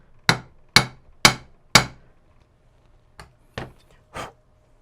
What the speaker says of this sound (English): In fact, maybe I can tap it on the top here to fix it.